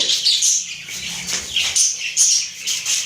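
A pigeon released by hand, with fluttering wingbeats amid bright, repeated chirps and squeaks from birds close by, steady and busy throughout with no talking.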